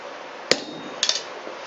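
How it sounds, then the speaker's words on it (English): A blacksmith hammers a punch through hot steel: one sharp, loud metallic strike, then a quick pair of lighter taps about half a second later, with faint background hiss and no speech. "I'm going to punch the hole"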